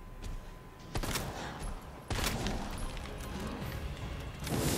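A magnum fires in Resident Evil 2 Remake, with two heavy, booming shots a second or so apart over a noisy, rumbling combat background, and a third blast starting at the end.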